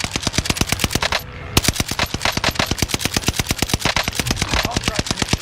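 Video game precision airstrike gunfire: rapid, loud, evenly spaced bursts of automatic fire that briefly pause, then continue at the same fast rhythm.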